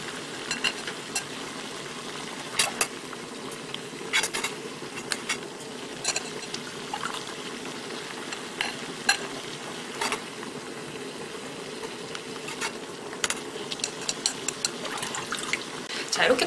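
Vegetables for Chinese cooking are blanched and rinsed in water, with soft continuous sloshing and splashing broken by sharp clinks and knocks scattered irregularly throughout.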